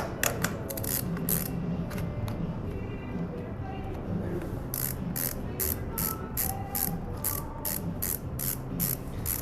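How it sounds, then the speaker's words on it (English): Ski boot ratchet buckles cranked shut, a fast run of sharp clicking ratchet strokes in bursts, most dense in the second half, over low background rumble and faint voices. "A lot of cranking to do."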